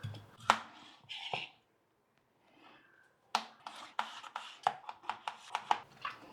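A knife slices peeled potatoes into sticks for French fries. Crisp strikes hit the cutting board, a few scattered cuts come first, a short quiet pause follows, then a quick run of regular chops.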